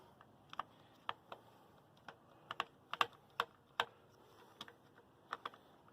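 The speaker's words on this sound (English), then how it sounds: "Again, we'll use the ratchet." Hand ratchet tightens a 10mm nut on a replacement carburetor for a Champion 27 ton log splitter, giving around fifteen quiet, sharp clicks in an uneven rhythm, close up with no speech.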